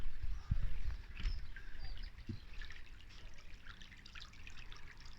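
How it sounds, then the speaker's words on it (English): Water trickling and dribbling steadily into a large pool being filled on a newly built timber deck, a soft continuous flow heard close with faint birdsong in the background. "We haven't got the full pool full of water yet, but it is filling up."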